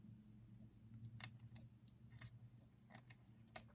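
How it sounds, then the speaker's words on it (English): Scissors trimming rustic metallic adhesive-backed dots while a Stampin' Up! fun-fold card embellishment is made, giving a few faint, sparse snips and clicks, with two sharper cuts standing out against a quiet background hum. "I'm not very good with the scissors doing this,"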